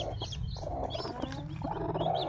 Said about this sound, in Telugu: మా కోడి అయితే పిల్లలు తీసింది